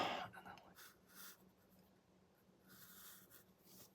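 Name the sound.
pen drawing a line on paper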